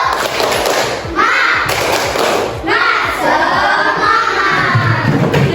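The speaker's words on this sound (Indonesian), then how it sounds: "Tepuk semangat." A classroom of children performs a rhythmic spirit clap chant, loud and close, with a steady stream of claps and thumps mixed with children's voices calling out throughout.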